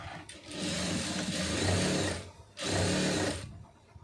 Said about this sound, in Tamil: அந்த அளவுக்கு அப்படியே தையல் போட்டுருங்க